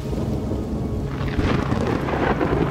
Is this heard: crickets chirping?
no